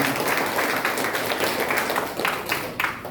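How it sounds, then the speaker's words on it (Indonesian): A church congregation clapping hands during a worship service, a short burst of fairly loud, uneven crowd clapping with a few stronger claps toward the end. "Tepuk tangan untuk Tuhan kita."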